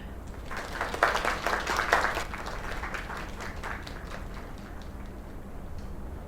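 Audience applause at a small gathering celebrating the naming of a new place, dense clapping peaking early then thinning to a steady patter over several seconds.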